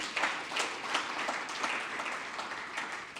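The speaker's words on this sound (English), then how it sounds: "can we clap for the curriculum?" An audience at the launch of a sustainable finance curriculum breaks into brief, lively applause, with close, dense clapping that goes on steadily for the whole few seconds.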